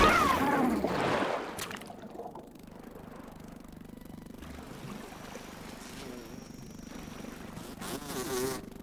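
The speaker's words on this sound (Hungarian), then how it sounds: "Jaj, a moszkító itt van fönt." A mosquito in the survival video game Grounded gives off a thin, steady insect whine at low to moderate level, mixed with ambient game sounds and occasional louder effects at the start and end.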